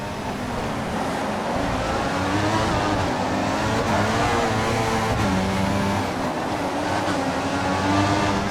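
Formula 1 cars race around the Hungary circuit in the F1 2014 game, a constant loud engine drone with whining pitch shifts as cars rise and fall in revs nearby, with no voices over it.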